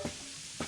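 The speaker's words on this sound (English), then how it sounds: "His leg is like sizzling." In the video game Wanderstop, a character's leg sizzles with two short frying-like bursts at the start and end, faint and close, separated by a quiet hiss.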